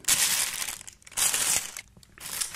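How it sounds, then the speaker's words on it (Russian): A small plastic bag is crinkled and cut open close up, giving three bursts of crisp rustling and crunching separated by short pauses, with no talking. "Сейчас разрежем пакетик."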